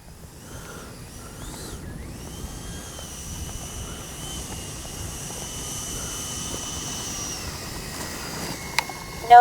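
A Freewing 90mm Zeus RC jet in flight, a steady whining turbine drone that rises gradually in pitch and loudness, heard outdoors at a distance, with a sharp click near the end.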